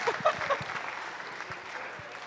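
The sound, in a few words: audience applause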